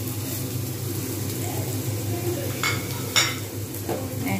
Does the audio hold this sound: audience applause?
no